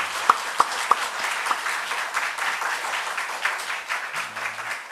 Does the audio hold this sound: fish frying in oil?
no